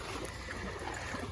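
Creek water flows in a summer heat spot, a continuous close, even wash of rushing and trickling water with no voices.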